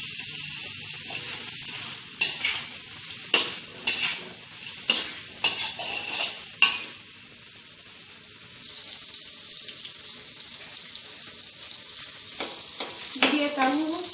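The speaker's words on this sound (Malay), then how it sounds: "dan kita goreng dia sampai garing." Tofu sizzles in hot oil while a utensil stirs and scrapes the pan in several sharp bursts, then the frying settles into a softer crackle.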